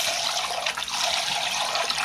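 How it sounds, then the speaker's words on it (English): Long grain jasmine rice is washed in cold water, a close, bright rush of running and sloshing water that continues steadily for about two seconds, with no talking. "I'm going to wash my rice very well, and you will see that as it washes,"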